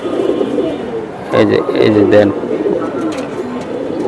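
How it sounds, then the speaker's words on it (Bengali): An almond pigeon in a loft coos in a short burst of low, throaty calls near the middle, while someone talks nearby. "এটা 11 নাম্বারের ভিতরে আছে অ্যালমন্ড কবুতর"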